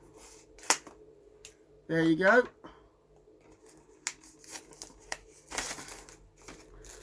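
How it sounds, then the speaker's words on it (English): Scissors snipping and tearing the plastic wrap off a DVD box set, a short burst of crinkly cutting close to the microphone, with a few scattered rustles and taps around it and brief talk. "Get me trusty scissors to start the plastic off"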